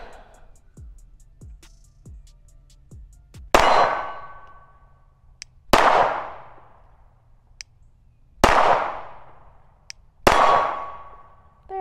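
A Glock 17C pistol fires four loud, sharp shots, each followed by a ringing decay. The shots come a few seconds apart, and fainter clicks and handling sounds come before the first one.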